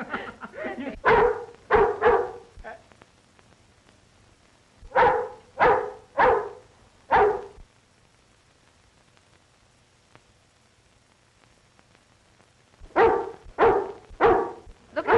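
A watchdog barks in three bursts of sharp, close, loud barks, with quiet stretches between them and no talking.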